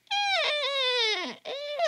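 A voice imitates the high, wavering squeal of air forced out of a stretched balloon neck, two sustained gliding tones, the first long and falling at the end, the second shorter, with no other sounds.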